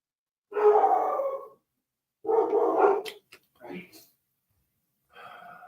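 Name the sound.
dogs barking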